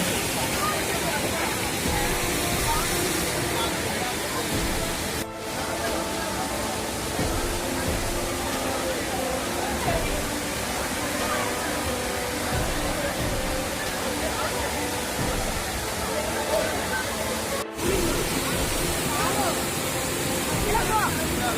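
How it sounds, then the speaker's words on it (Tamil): Constant roaring rush of Manimuthar waterfall, falling forcefully from a low height, broad and steady, with faint voices mixed into the wash of noise. "தண்ணி பார்க்க தான் ஹைட்டு கம்மியாக விழுத மாதிரி இருக்குது ஆனால் செம ஃபோர்ஸாக விழுது"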